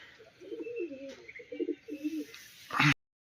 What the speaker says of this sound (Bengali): এই আমার 6টি পায়রা